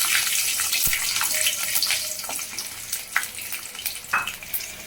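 Mustard seeds and garlic fry in hot oil for a bitter gourd gravy, a close, lively sizzle with scattered sharp pops and crackles that thin out toward the end.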